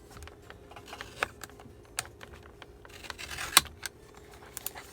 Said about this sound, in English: I'm just cutting where it's rounded at the edge.